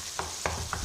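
A spoon stirs mashed eggplant bharta in a pan: three soft, evenly spaced scraping strokes, close and faint, over a low background hum.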